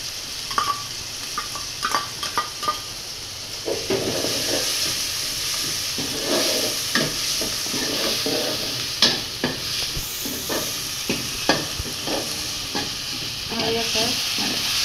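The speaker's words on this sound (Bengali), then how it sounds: "হয়ে গেছে চিংড়ি মাছ কষানো হয়ে গেছে" Shrimp frying with turmeric and chili powder in a pan: a continuous hissing sizzle with repeated scraping, clattering stirs of a spatula, close and fairly loud.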